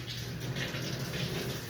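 Tap water runs steadily into a kitchen sink with a squirt of dish soap, a continuous broadband hiss and splash with no breaks and no voices.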